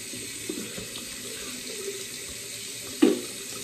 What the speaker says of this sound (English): Turn up the water real quick.